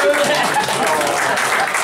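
An audience at a French comedy show claps and applauds, dense and steady throughout, mixed with crowd voices.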